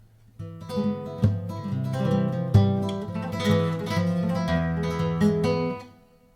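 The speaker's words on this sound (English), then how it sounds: "So you hear the reverb there." A strummed acoustic guitar plays a short chord phrase, notes ringing out with a spacious reverb tail before fading at the end.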